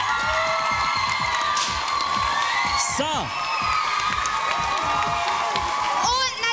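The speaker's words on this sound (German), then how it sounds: "Applaus für alle Finalisten," A loud crowd at a children's singing contest final cheers and whoops over sustained applause, with shouts rising above the din and a voice briefly speaking.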